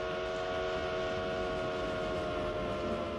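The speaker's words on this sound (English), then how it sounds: "At the speed of a train, you can sense the change of pitch for sound, but not for light." A train passing and shifting in pitch as it goes by: a steady rail drone with sustained tonal hum bands, moderately loud and continuous, with no talk over it.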